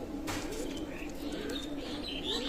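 Teddy pigeons at a pigeon loft coo softly and steadily, a low throaty murmur running throughout, with faint chirps and higher bird calls layered on top.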